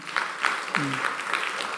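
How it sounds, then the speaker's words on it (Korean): Sunday service worshippers clap together for an elder's 80th birthday, a lively patter of many hands with distinct claps, while a voice briefly sounds over the applause partway through. "여러분 박수 한번 하겠습니다."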